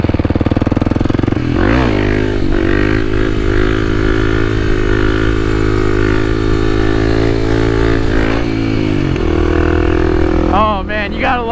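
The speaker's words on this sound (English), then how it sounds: "Oh man, you gotta love uphill wheelies." Kawasaki KLX300 motorcycle climbing a mountain road while doing uphill wheelies, its engine droning loud and steady up close, pitch shifting as it revs, with a brief voice near the end.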